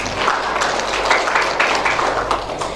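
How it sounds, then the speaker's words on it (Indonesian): A church congregation claps during a worship service, a dense, continuous patter of hands filling the room for a few seconds. "Ayo tepuk tangan."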